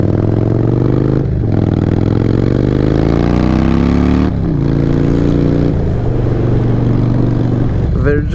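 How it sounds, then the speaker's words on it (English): Loud, close motorcycle engine rumble heard while riding, with pitch rising and falling through gear changes and a couple of brief dips, and no talking. "I love the feeling of riding a motorcycle"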